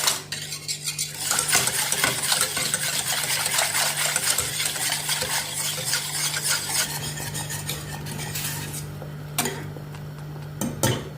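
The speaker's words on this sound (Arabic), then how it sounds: "هكذا نحرك مليح." A grape custard mixture thickened with cornflour and flour is stirred in a pot, a utensil scraping and clinking steadily against the metal for the whole stretch, close and fairly loud over a low steady hum.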